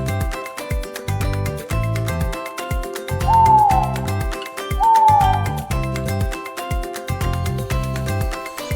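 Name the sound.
owl hooting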